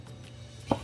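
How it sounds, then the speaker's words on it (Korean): A knife slicing chili peppers into round pieces on a cutting board: one crisp, close chop sounds near the end after a quiet stretch, with no talking. "땡글땡글하게 썰어줍니다"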